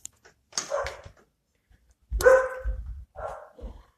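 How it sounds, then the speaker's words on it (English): Dogs bark in a few sharp, close bursts separated by short silences, loud and clear with no talking over them. "That's why the dogs are barking."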